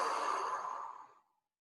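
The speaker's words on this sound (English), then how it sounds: "then I blow out through my mouth, and I pause, holding my breath, 3 seconds" A single soft, steady exhale blown out through the mouth during a slow breathing exercise, close and breathy, tapering away to silence after about a second and a half.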